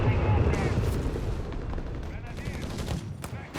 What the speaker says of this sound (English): Sniper hard at work until he gets pushed back.